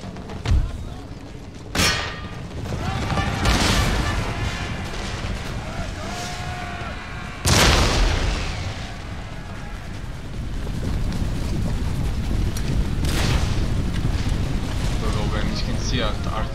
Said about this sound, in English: the artillery hit did make some damage